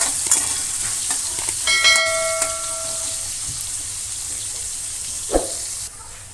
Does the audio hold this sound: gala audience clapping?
no